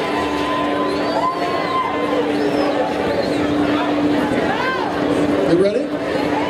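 A crowd gathered at a starting line for a Guinness World Record attempt chatters and cheers, a steady hum of many voices with scattered shouts and whoops rising throughout.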